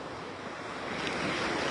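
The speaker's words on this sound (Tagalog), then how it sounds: "Grabe, sobrang taas ng wave." Large ocean waves crashing on a surfing beach, a loud broad roar of surf swelling toward the end with wind noise, no talk.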